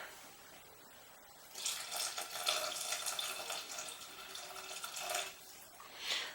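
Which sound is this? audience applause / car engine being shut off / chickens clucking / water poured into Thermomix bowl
water poured into Thermomix bowl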